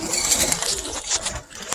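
Pigeons in a backyard loft coo softly and steadily, mixed with faint chirps and a low hum of rustling activity; no voices.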